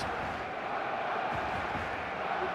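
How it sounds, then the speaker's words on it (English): Full stadium crowd noise in the eFootball 2026 football video game, a dense continuous roar of cheering and chanting at steady volume. "The stadium is full of noise and energy."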